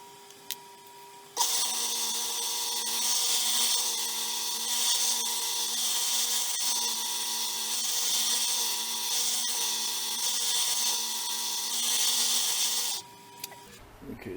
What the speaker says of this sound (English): So I'll sand up these two sides